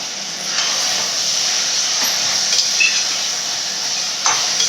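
Food sautéing in a cooking pan while making coconut milk rice, a steady sizzling hiss with a few faint stirring scrapes, continuous and fairly close, with no voices.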